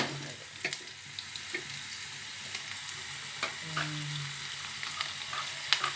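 Coriander and curry leaves crackle in hot oil for a tempering, a soft continuous sizzle with scattered pops and occasional stirring, close and without talk.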